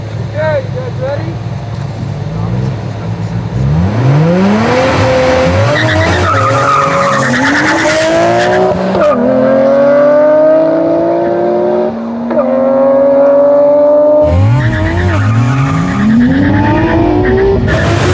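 A 1999 Nissan Skyline R34 GT-R and a 2023 Nissan Z Proto Spec launch in a drag race: engines rev hard and loud, rising through repeated gear changes, with tire squeal and voices around them.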